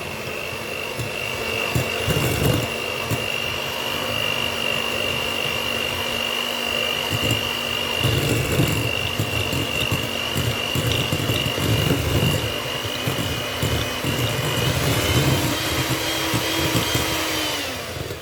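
An electric hand mixer creams marble cake batter in a bowl, a steady whirring motor drone running throughout with rhythmic thumps and scrapes as the beaters move through the mix.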